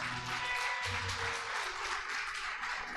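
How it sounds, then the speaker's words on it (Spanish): A church congregation applauding, a steady wash of clapping from many hands that fills the space evenly and without pause, no voices over it. "¿Cuántos aplaudan una vez más al Señor?"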